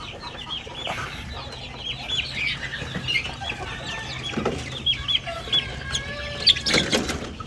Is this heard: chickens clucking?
yes